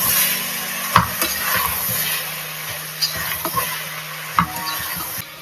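Carrot, beans, cauliflower and peas sautéing in a pan, a steady soft sizzle broken by several clinks and scrapes of a spoon stirring, close and fairly quiet.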